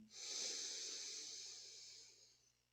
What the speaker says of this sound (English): And continue long, deep breathing.